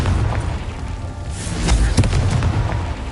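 A Confringo fire spell blast in the Hogwarts Legacy video game, heard as a loud, continuous rumbling burst with sharp crackling pops mixed into a dense low roar.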